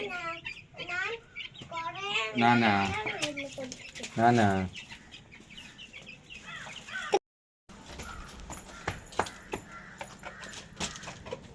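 Young chicks just brought from the farm peep in rapid high rising chirps, loud and close for the first few seconds, then quieter scuffling and light background noise after a brief cut.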